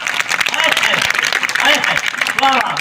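Crowd clapping at a Hindi kavi sammelan poetry recital in 2022, a loud burst of many hands applauding close by while a voice carries on over the applause.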